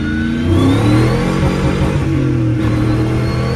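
A Chevy Silverado pickup with a swapped 6.0 V8 and 5-speed revs hard in first gear, pitch pulling steadily upward, loud and close, a throaty V8 roar.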